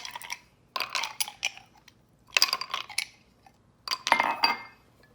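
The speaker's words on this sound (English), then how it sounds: "Add some ice cubes to my cup." Ice cubes clink and rattle into a margarita glass in three separate drops, each a bright, clattering cluster of knocks, close up with quiet pauses between.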